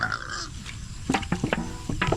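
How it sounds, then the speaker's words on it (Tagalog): Native pigs grunt in a rural pen, several short rough grunts up close against a steady background hum. "nilagay na din namin yung mga alaga namin dito ditong mga native baboy"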